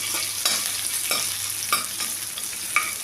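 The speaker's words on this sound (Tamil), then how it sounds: "சோம்பு நல்லா பொறிஞ்ச உடனே அதில் பச்சை மிளகா சேர்த்துக்கலாம்" Green chilies hit fennel seeds frying in hot oil for a crab gravy, giving a steady close sizzle with several sharp crackling bursts and stirring scrapes, no voices.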